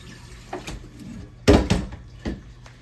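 A cooking pot being rinsed under a kitchen tap: a few scattered metallic clanks and knocks of the pot, with one louder clatter midway and brief splashes of water.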